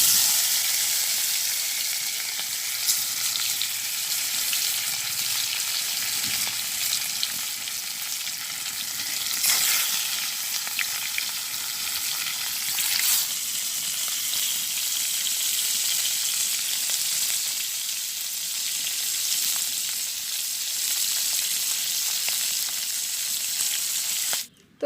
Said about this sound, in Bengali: তেল গরম হয়ে গেছে, আমি এখন মাছটা দিয়ে দিই।